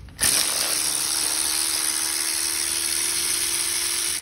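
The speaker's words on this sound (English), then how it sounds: "Next thing I'm gonna do is start removing my manifold bolts." A steady, high-pitched mechanical whir from a power tool working on the turbo manifold bolts of a Chevy Cruze, running continuously at close range and cutting off abruptly at the end.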